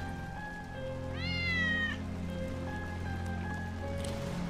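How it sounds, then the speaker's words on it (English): Wedge's cat in Final Fantasy VII Remake gives a single clear, drawn-out meow over a steady backdrop of trickling water and soft rain-like ambience. "That's Wedge's cat."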